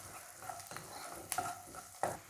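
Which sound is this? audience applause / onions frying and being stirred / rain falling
onions frying and being stirred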